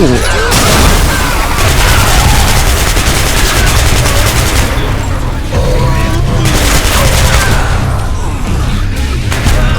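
Explosions and dense gunfire from the shooter game Hatred roar loudly and almost without a break, with heavy booming blasts over rapid machine-gun bursts filling the whole stretch.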